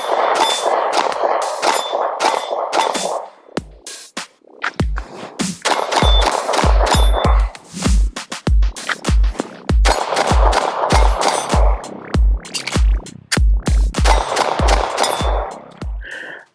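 Repeated sharp gunshots from a gun fitted with Tyrant Designs CNC parts, fired in quick irregular bursts with short pauses between volleys, loud and close, with metallic ringing clangs after many of the shots.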